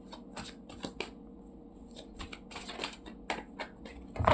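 Tarot cards shuffled by hand in a series of crisp riffling bursts and soft slides, close and moderately loud, with short pauses between bursts and no talking.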